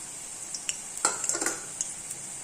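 Pieces of snake gourd 65 fry crispy in hot oil for a Tamil tiffin-box meal, a steady high sizzle broken by bursts of crackling and light clinks and stirring, close and alone.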